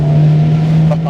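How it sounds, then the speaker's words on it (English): Fiat Abarth 124 Spider on a road, its exhaust burbling with a steady low drone and a few faint pops near the end, loud and close throughout. "burbly noises from the back end. Listen to all those little pops and thuds and crackles."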